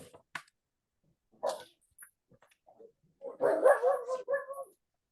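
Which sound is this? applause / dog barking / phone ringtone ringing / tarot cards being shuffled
dog barking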